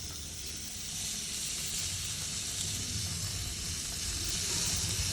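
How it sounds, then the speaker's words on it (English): Butterflied Australian lamb leg sears on an iron grill over a red gum wood fire, producing a steady, broad hiss-like sizzle that swells slightly and holds constant throughout, close up with no talking. "Get a nice sear on the other side."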